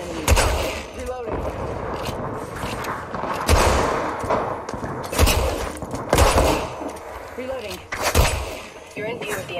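Enemy gunfire in a battle royale game, loud bursts of shots recurring every couple of seconds over constant game noise, with voices heard in the mix.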